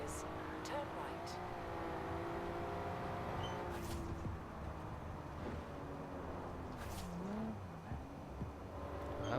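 A virtual Nissan S13 with an RB26 engine in the Forza Horizon 4 video game revs through a downshift, engine tones rising and falling, with a short tire chirp, while a voice talks over it.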